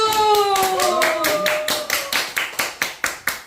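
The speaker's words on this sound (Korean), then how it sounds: "다들 박수!" Office coworkers at a first project-manager appointment ceremony clap together; a voice rings out at the start under the claps, which then settle into a loose, evenly spaced rhythm of separate nearby claps.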